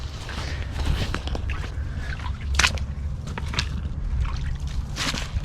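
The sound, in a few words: water trickling in a creek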